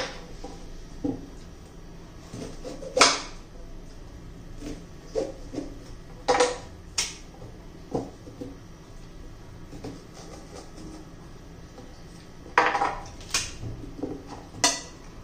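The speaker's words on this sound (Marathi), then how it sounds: "आपण त्याचे ना छोटे छोटे तुकडे करून घेणार आहोत" A knife chops a peeled corn cob into small pieces on a board, with sharp irregular clacks and thuds spaced out over a quiet kitchen background.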